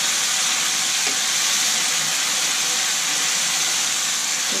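A pot of kadhi cooks over a medium gas flame, giving a steady, loud, close hiss and bubbling sizzle that stays even throughout, with no voices.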